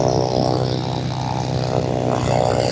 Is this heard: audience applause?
no